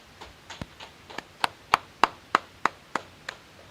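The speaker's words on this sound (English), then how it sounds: "All right, clap it up." Hand clapping at an Israelite School of Universal and Practical Knowledge gathering in Houston: about a dozen sharp, separate claps at a steady, even pace, fairly close and growing louder midway, with no talk.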